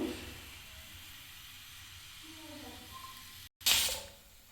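A pressure cooker releases a short, loud hissing burst of steam near the end while palak and hulichikka soppu sambar cooks, following several seconds of quiet kitchen background.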